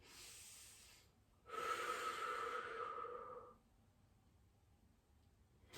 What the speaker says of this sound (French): Encore 2 respirations profondes, tenez le coup